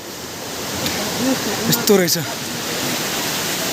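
The Roshi waterfall in Kavrepalanchok sends out a steady, rushing roar of falling water, while a person's voice briefly speaks over it midway.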